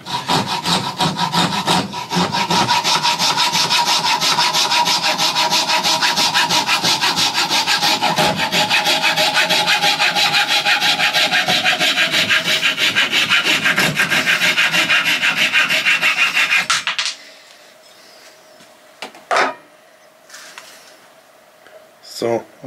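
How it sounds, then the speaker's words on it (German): A hand saw cuts through beech wood with fast, continuous rasping strokes for about seventeen seconds, then stops, leaving faint handling noises. The wood is being cut to length for a bushcraft rope tensioner. "sägen wir das Holz einfach ab"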